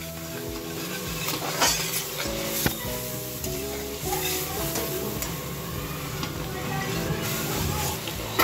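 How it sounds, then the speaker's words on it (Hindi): Garlic and ginger paste frying in oil in a pan for dum aloo gives a steady sizzle, with a spoon stirring and clinking against the pan close by. "अब हम इसको फ्राई करेंगे।"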